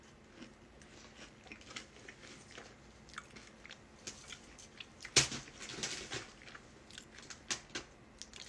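Close, quiet chewing and biting while someone eats, with soft crunchy bites and mouth sounds spread through the clip and one sharper crunch near the middle.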